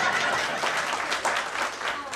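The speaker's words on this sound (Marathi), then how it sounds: "जरा टाळ्या वाजवा" Applause rises from 1989-batch classmates at a Balak Vihar Vidyalay school reunion as a friend arrives. Brisk clapping fills the room, with voices talking over it.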